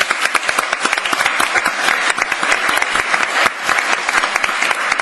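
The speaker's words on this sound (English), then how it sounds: "It's very hard to get this guy to take a round of applause" Dense, steady audience applause at a panel discussion on Real Bread, many hands clapping close and continuously throughout.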